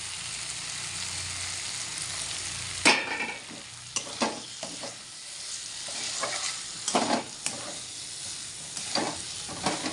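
Chickpeas tipped into a hot pan for a banana-flower ghonto and stirred, giving a steady oily sizzle broken by sharp scraping strokes of the spoon, close and moderately loud, with no one talking.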